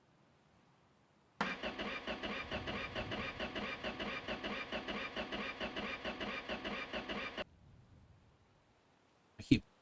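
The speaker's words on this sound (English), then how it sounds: "The battery sounds like it's starting to die." A truck engine in the video game My Garage cranks on a weak, dying battery, a loud rhythmic chugging starter that churns for about six seconds without catching, then stops, followed by a brief sharp click.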